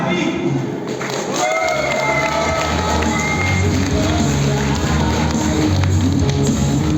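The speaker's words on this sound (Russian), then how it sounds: "Под ваши бурные аплодисменты еще раз" Crowd cheering and clapping for fighters Fedor Emelianenko and Vadim Nemkov at an event in Yakutsk, a steady dense roar of voices with scattered shouts and applause filling the whole stretch.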